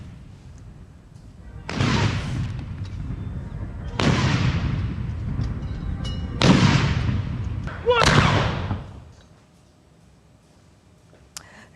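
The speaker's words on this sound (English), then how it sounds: "Although it is called a 21-gun salute, it is typically executed by 7 cannons," Ceremonial cannon fire of a 21-gun salute, with four booming blasts spaced about two seconds apart, each ringing out and decaying before the next, then quieting to a low background.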